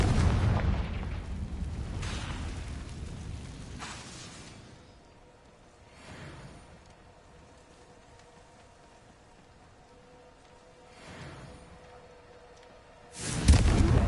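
A fiery Confringo blast spell erupting in the Hogwarts Legacy game, with a loud booming burst at the start, fainter detonations during the quieter stretch, and a sharp loud blast at the very end.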